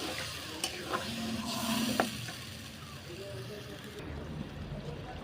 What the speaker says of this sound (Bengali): তো আমাদের টক দই দিয়ে যে মাংসটা মাখানো ছিল সেই বাটিটা দিয়ে সামান্য জল দিয়ে দেবো এবার।